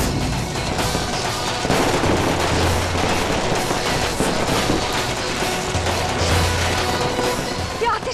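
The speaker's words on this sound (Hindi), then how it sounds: "ये आतिशबाजी हमारे ऊपर क्यों आ रही है?" Dense, rapid crackling bursts of fireworks explode continuously and loudly, with overlapping pops and booms filling the whole stretch.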